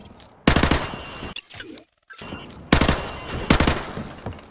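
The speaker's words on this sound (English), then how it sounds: "Hit the targets!" Automatic gunfire at targets in Call of Duty: Modern Warfare Remastered, two loud sustained bursts of rapid shots separated by a brief pause with a metallic clatter, close and dominant.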